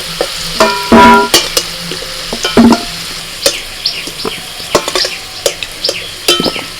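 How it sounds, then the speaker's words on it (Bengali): Prawns fry lightly in hot oil in a home kitchen pan, giving a steady crackling sizzle broken by sharp spatula scrapes and metal clinks. The sizzle is close and fairly loud, with no talking. "ওই তেলের মধ্যে চিংড়ি মাছ ভেজে নিচ্ছি"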